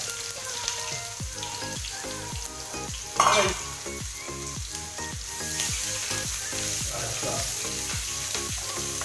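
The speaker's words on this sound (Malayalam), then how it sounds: "സവാള ഇട്ടിട്ട് അളിച്ച് കൊടുക്കണം" Onions sizzle steadily in hot oil with popped mustard seeds while making tomato chammanthi, with repeated rhythmic scraping of a utensil stirring in the pan.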